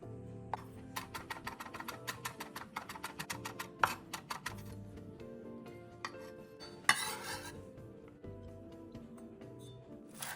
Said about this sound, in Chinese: 小红葱1个，切成片后一样剁碎。